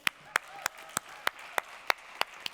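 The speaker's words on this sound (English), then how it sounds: "Give a big applause to Markus Villig." A small audience claps for Markus Villig at a startup conference, with sharp, evenly spaced claps in a steady rhythm, close and fairly loud.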